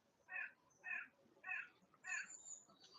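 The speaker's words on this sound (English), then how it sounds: "I can hear my crow friends in the background." Four evenly spaced caws from a crow sound faintly in the distance, with a weaker fifth call trailing off in a quiet outdoor setting.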